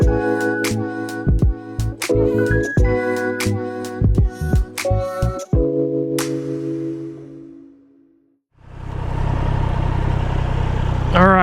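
A 2023 Triumph Trident 660 motorcycle engine settles into a steady, rumbling idle for the last few seconds, close and fairly loud, after a stretch of unrelated tonal music.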